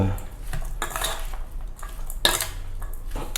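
A spoon stirs through a pot of pork liver, knocking against the metal in a few distinct clinks and scrapes, close and fairly loud over a low steady background.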